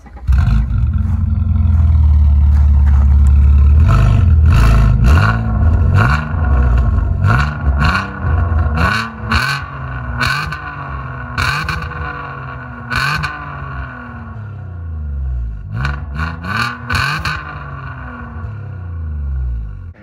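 An Alfa Romeo 147 GTA's naturally aspirated V6 engine revs repeatedly, sharp blips rising and falling with crackling exhaust, loud and close, no talking.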